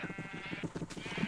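Sheep bleat repeatedly inside a sheep pen on a Minecraft-style farm server in a video game, several overlapping pulsing cries coming in quick succession at moderate loudness with no talk over them.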